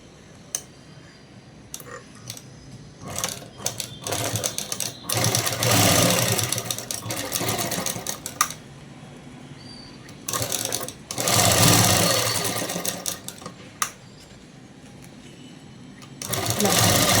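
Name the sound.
sewing machine stitching fabric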